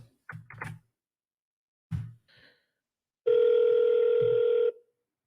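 Telephone ringback tone on an outgoing sales call, one long steady tone sounding clearly through a speakerphone, preceded by brief bits of talk and faint knocks.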